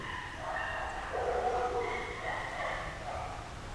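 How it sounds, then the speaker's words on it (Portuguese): Dogs bark in the distance, blurred and overlapping, over a steady hiss of background noise. "E os cachorros tá que late"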